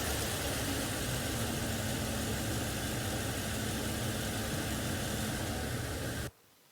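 A car engine idles steadily at a constant, even level for about six seconds, with a broad noisy hiss over the low rumble, then cuts abruptly to near silence; no one speaks.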